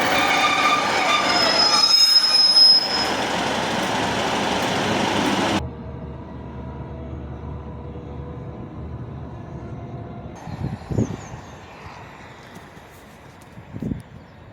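A train pulls in at a Scottish West Coast station near Prestwick, its wheels squealing loudly and steadily on the rails for several seconds before cutting off, followed by quieter platform ambience with a couple of brief knocks.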